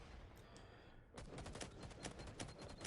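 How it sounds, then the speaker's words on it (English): Rapid bursts of gunfire in a Pro League match of a tactical shooter video game, a dense string of closely spaced shots that starts partway through and keeps going loud to the end. "Those are some nice shots that Titch got off."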